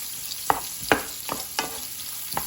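Onions sautéing in a pan for a veggie omelette: a steady close sizzle with a few sharp spatula scrapes and stirring clicks spaced through it, no talking.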